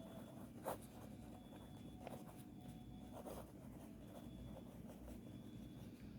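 Pen or marker strokes write an accounting entry on paper or a board, a steady scratching with short irregular strokes under a constant background hum, fairly faint and close.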